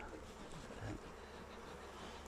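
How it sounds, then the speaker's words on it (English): Honey bees hum in a constant, faint drone at a hive, a dense steady buzz with no talk. "I'm smoking the bees here because I am trying to make some space"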